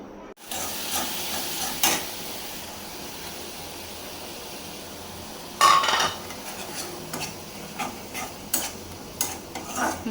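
Okra frying in a pan, a steady sizzle running throughout, punctuated by sharp clinks and scrapes of a utensil stirring against the metal, with a busier cluster of stirring knocks toward the end.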